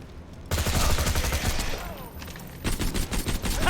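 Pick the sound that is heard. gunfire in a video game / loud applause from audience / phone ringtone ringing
gunfire in a video game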